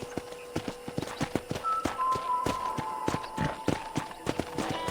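Horse hooves clip-clop steadily on the ground in Red Dead Redemption, a game set on a ranch, the regular beats ringing out close and clear over a soft steady ambient bed with a faint tone.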